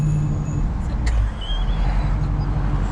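A Dodge Charger R/T Hemi V8 with its mid-mufflers deleted idles close by, producing a loud, steady, deep exhaust rumble with a continuous low throb and no revving.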